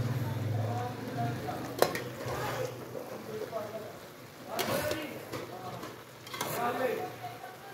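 Aloo pulao in a pot being stirred and mixed, with scraping utensil strokes and a low sizzle in repeated bursts, close but quiet, with a voice talking at times.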